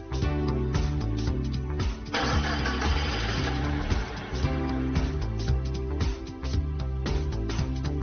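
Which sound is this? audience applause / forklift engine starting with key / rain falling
forklift engine starting with key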